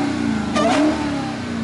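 A new coupe's engine revs close by, a mid-pitched roar that swells briefly and settles back to a steady rumble.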